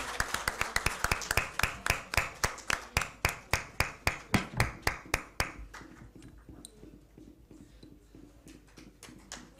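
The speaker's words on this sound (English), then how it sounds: "A big round of applause for them, please." An audience applauds Aloke and his team at a felicitation, with brisk, rhythmic clapping that rings out loudly for about five seconds before dying away into quieter scattered sounds.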